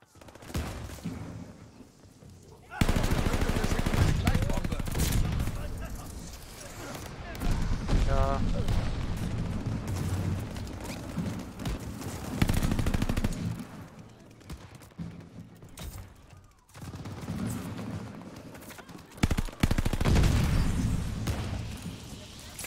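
DP27 machine gun fired in the multiplayer shooter Call of Duty: Vanguard, with loud sustained bursts of automatic fire and booming impacts through most of the stretch, under occasional talk from players.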